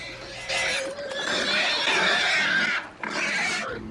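Pigs squealing loudly and harshly in a dense, continuous chorus, with a short break before the noisy shrieking resumes; no speech is heard.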